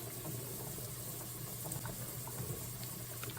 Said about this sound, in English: Now Mom's got some potatoes boiling right there.